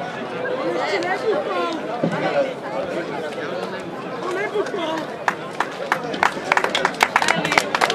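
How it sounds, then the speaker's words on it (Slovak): At a hill-running race awards ceremony, a crowd first murmurs and chatters, then breaks into scattered, building hand clapping near the end, with sharp individual claps standing out close by. "Fotografia a potlesk"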